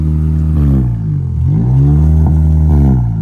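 Acura RSX Type S exhaust revved repeatedly, loud close engine rising and falling in pitch several times with a raspy tone, no speech.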